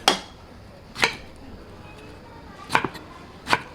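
A knife chops meat into pieces on a cutting board four times at an uneven pace, each one a crisp thud; close by and clear, with no talking.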